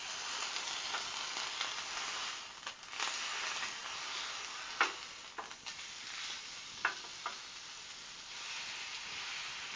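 Spaghetti Bolognese sauce sizzles gently over low heat in an enamel pan, a steady close hiss with a few brief spatters and utensil knocks.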